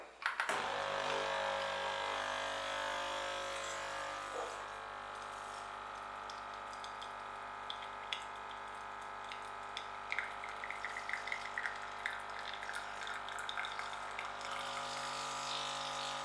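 A Lavazza Jolie Evo pod coffee machine brews Rossa coffee, a steady pump hum with liquid streaming and dripping that starts abruptly and runs on throughout, a few light clicks near the end, close by and alone.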